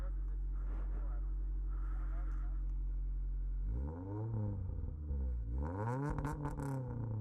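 A motorcycle fitted with a new header revs up, starting from a steady deep idle, then swelling through two rising-and-falling throttle blips with a heavy exhaust rumble, while someone talks briefly at the start.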